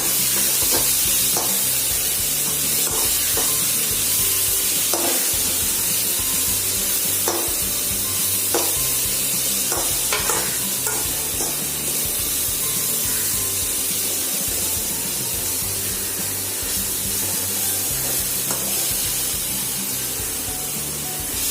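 A mint and mango mixture fries in a pan before rice goes in, giving a loud, constant hissing sizzle with regular spatula scrapes and taps against the pan throughout.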